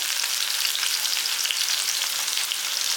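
Shallots and green chilies sizzle steadily in hot oil, a dense continuous frying crackle close up with no talking.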